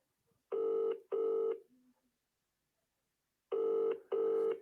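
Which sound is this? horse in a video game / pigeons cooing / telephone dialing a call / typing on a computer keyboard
telephone dialing a call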